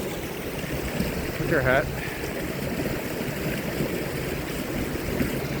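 Water pouring over a dam spillway below a farmhouse on a cool spring day, a constant broad rushing wash heard from nearby while someone speaks briefly over it.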